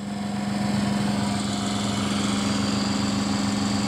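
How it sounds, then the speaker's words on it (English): A small 12 volt brushless pump running underpowered at about 8 volts on a magnetic heater test rig gives a steady, close motor hum with a fixed low drone and slight rhythmic pulsing, alone and without talk. "My little pump's 12 volt brushless pump."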